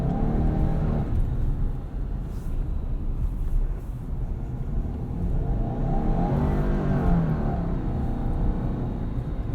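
A 2022 Subaru Outback Wilderness driven hard through snow at full throttle, a loud, sustained engine roar with rising revs and a low rumble from inside the cabin.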